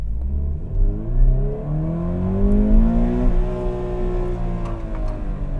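A modern manual-transmission car engine revs up hard and bounces off the rev limiter, a loud close climbing drone that stutters and holds at the cutoff.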